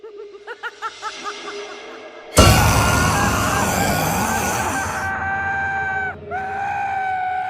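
A person screams loudly in fear in a horror story scene, a sudden sustained cry that follows a run of short rhythmic gasps or laughs, with a brief break near the end before the screaming resumes.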